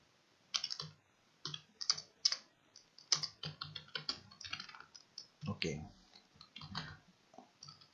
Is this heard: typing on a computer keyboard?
yes